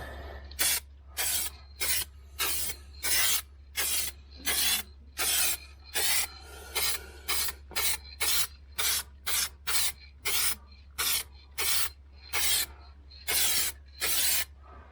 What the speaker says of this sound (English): But now we can spray again.